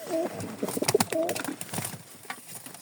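About seventeen pigeons coo close by in soft, rolling calls, several overlapping, with flutters and light rustling around them.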